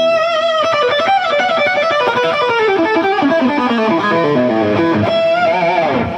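An electric guitar played through a Brad Jetter Redshift overdrive pedal rings out in loud, distorted rock tones. A run of quick notes and bends is heard alone, without talking.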